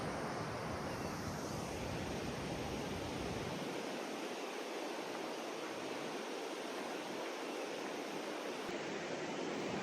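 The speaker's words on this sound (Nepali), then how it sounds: "यो गण्डकी चाहिँ हेर्दाखेरि होइन, यतातिर चाहिँ यो उकालो जस्तो देखिन्छ, तर पानी बगिरहेछ त तलतिर" Gandaki river rushing past, a dense continuous roar of flowing water, loud and steady throughout with no voices.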